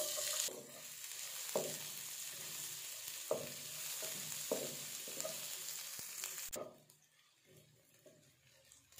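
Onions fry in a pan with a steady soft sizzle and a few clinks of stirring, fairly faint and close, before the sizzle drops away near the end.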